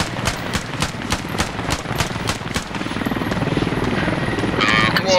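Helicopter rotor chop in a squad-based multiplayer war video game, a loud rhythmic thudding that builds steadily and blends with bursts of gunfire and game action, with no talk over it.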